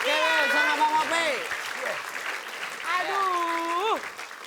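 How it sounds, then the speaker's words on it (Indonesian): Studio audience applauding on an Indonesian TV comedy show, a steady clapping wash that stays under a voice throughout. "Oke, sekali lagi kita kasih tepuk tangan."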